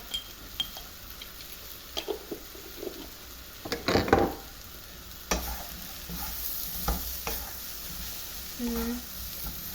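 Quiet sizzling of coriander and cumin powder frying in a pan for vegetable dal, with occasional spoon scrapes and clinks of cookware, a few louder stirring bursts midway.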